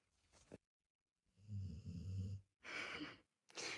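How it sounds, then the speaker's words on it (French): A dog snores up close in slow, deep rhythmic breaths, three or four drawn-out rasping snores separated by short pauses. "Elle ronfle comme un humain."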